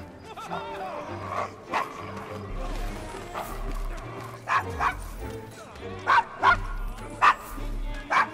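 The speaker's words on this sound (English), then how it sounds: "Is your dog quite all right?" A dog barks several times in short yips and woofs in Assassin's Creed Syndicate, set in a rough London street area, mixed under spoken dialogue and a low rumbling background.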